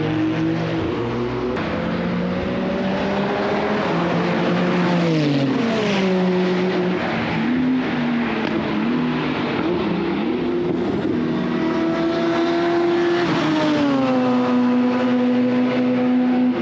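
Loud, continuous engine noise from a Porsche 911 (996) Turbo and other cars at a track day, with rising and falling revs as they accelerate and shift, steady and close throughout with no talking.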